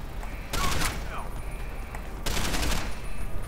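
Bursts of automatic gunfire in the video game Deus Ex: Human Revolution, two dense rapid volleys separated by a short pause, loud and close, with a voice talking over the action.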